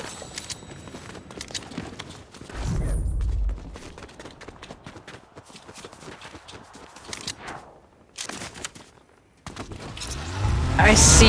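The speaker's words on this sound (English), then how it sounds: "I see the shooting." Bursts of Fortnite gunfire crackle among footsteps and in-game movement, with loud heavy thumps partway through and a rising roar at the end, under an intermittent voice.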